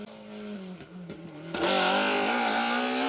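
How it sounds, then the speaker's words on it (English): Rally cars racing flat out along an asphalt stage in the Argyll hills, engine notes rising and falling through gear changes before a loud, close car roars past with sustained high revs. "The hills are definitely alive with the sound of rally cars this morning"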